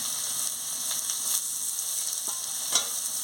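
Chopped onions frying with potato and eggplant in a pan, a steady soft sizzle with faint stirring clicks throughout, no voices.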